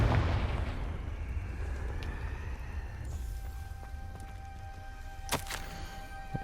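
Confringo fire spell exploding in the Hogwarts Legacy video game, a sustained low rumbling blast with crackling debris that fades into ambient noise, followed by a couple of sharp bursts near the end.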